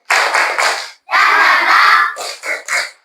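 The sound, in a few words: class clapping a rhythmic spirit clap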